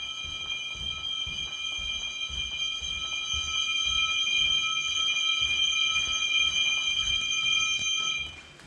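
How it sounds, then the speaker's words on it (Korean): Bridge radar equipment aboard a ship sounds an alarm: several steady high electronic tones hold continuously for about eight seconds over a low rumbling background, then cut off near the end. "방금 알람 올 때"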